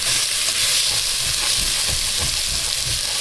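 Onions and garlic sautéing in a pan, a steady loud sizzle with soft stirring scrapes and no talking.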